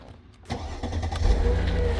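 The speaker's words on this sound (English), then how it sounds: "it turns and it starts the vehicle too." A 1996-2001 Mercedes-Benz E320 (W210) engine cranks and catches on a newly programmed key, then settles into a steady, close idle rumble with no talking.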